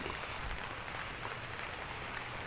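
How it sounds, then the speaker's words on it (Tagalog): Steady rain falls around a walker on the way to work, a dense, even hiss that holds at one level throughout with no voices. "Ulan pa rin."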